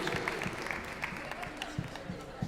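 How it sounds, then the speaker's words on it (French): Audience at Japan Expo applauding a player after a Nintendo 1-2-Switch challenge, a steady spread of clapping from a crowd, moderately loud and continuous, with a voice talking over it. "On peut l'applaudir bien fort."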